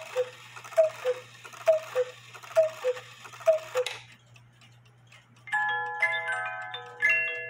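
A one-day musical chalet cuckoo clock ticks steadily and close for several seconds, then a short music-box tune begins to play, with no voices.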